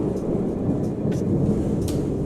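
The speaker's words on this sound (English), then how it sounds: "Hey, you guys hear the thunderstorm?" A thunderstorm outside rumbles as low, rolling thunder under a wash of steady rain, moderately loud and continuous, with a few faint sharper ticks over it and no speech.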